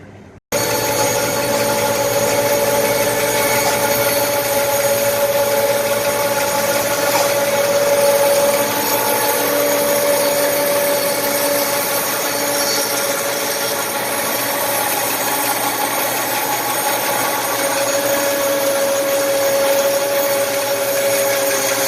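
A bandsaw fitted with a Grizzly blade resaws red oak lumber, a steady loud whine and rub of the cut running continuously for the whole stretch with no talk over it.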